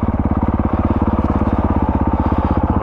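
A 2021 Honda CRF450RL dirt bike with a Yoshimura exhaust being ridden, its single-cylinder engine thumping in a fast, steady, loud rhythm close by.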